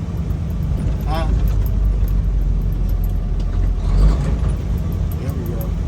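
A semi truck's engine rumbles low and steady while the driver downshifts by floating gears, with a brief hiss partway through and someone talking over the engine.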